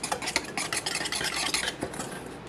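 Latke batter of eggs, kosher salt, black pepper and matzo meal stirred in a bowl, a steady run of close, wet scraping and clinking strokes with no voices.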